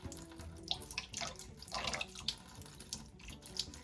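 A tap runs into a sink while a cat's fresh water is refilled, giving a quiet, continuous splashing flow with small fluctuating gurgles.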